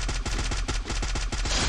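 Rapid FAMAS rifle fire in the Free Fire battle-royale game, a dense run of about eight evenly spaced loud shots across under two seconds with no talking.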